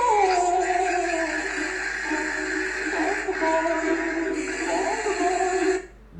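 A dog whimpers and howls in a long, continuous, loud wavering cry that drops off abruptly at the end.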